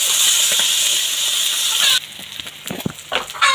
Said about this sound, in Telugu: ఇప్పుడు ఇందులో అల్లం వెల్లుల్లి పేస్ట్, ఇలా వేసి కొంచెం సేపు మళ్ళీ వేయించుకోవాలి.